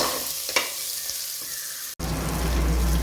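Onion rings sautéing in a pan for onion sambar hiss in a close, steady sizzle with a couple of stir knocks and a brief cut near the middle, with no voices.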